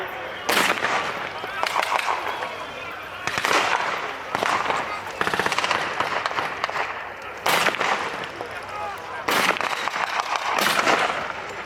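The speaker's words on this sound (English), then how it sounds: "And the half-track was hit by a bazooka." Sharp, loud blasts and pyrotechnic bangs crack at intervals during a Tankfest battle reenactment as a bazooka strikes a half-track, each burst ringing out with rumbling echo.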